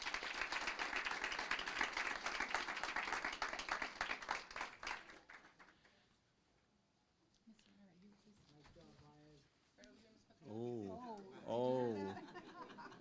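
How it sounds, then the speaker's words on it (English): Audience applause at a city council meeting, busy clapping for the first half that fades out, followed by scattered chuckles and a few voices talking nearby. "Let's give them a warm round of applause."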